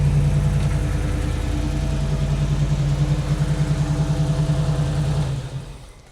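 A 1934 Ford street rod with a 327 V8 runs at a steady, throbbing idle close by, its loud low pulse continuous until it cuts off and fades near the end.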